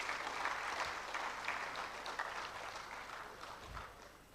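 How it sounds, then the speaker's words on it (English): Audience applause at a memorial lecture, a broad steady patter of many hands that holds at a moderate level for about four seconds before slowly thinning, with a faint low thump near the end. "Let's give our father a round of applause once again."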